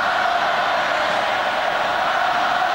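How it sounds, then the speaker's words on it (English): A rugby crowd at the 2004 Super 12 final between the Brumbies and Crusaders, a steady roaring wash of distant screaming and cheering that holds unbroken throughout. "Crowd screaming out for the final whistle to go"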